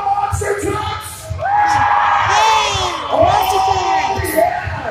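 A crowd at a monster truck show cheers, whoops and yells. Loud, sustained voices swell and overlap throughout, with a few sharp shouts standing out.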